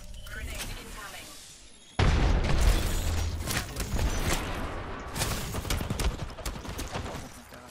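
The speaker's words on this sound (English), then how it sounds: "Grenade incoming." A grenade explodes in Apex Legends with a sudden loud boom that gives way to a long, rumbling roar of blast and gunfire debris, while a player talks over the game sound.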